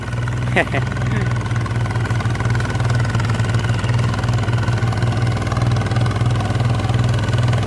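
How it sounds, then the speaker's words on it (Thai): A farm machine working a rice paddy runs its engine steadily, its exhaust pipe giving a loud, continuous, throbbing drone close by with no letup, while someone talks over it. "ชอบท่อตัวนี้นะครับ เสียงมันดังแบบมันไม่ดังเกินไปนะครับ มันจะดังแบบมีเสน่ห์นะครับผม"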